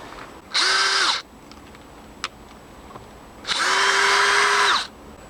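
A power drill bores holes into logs for mushroom plugs, two loud close bursts of about a second each separated by a quiet pause with a small tap.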